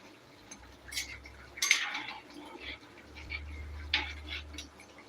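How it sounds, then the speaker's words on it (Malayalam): A spoon stirs seer fish head curry in a metal pot, giving a few soft scrapes and sharp clinks against the rim, fairly quiet and spaced out over a low background hum. "ഓക്കെ നമുക്കത് ജസ്റ്റ് ഒന്ന് ഇളക്കാം കേട്ടോ ഒന്ന് ഇളക്കിയിട്ട് ചെയ്യണം"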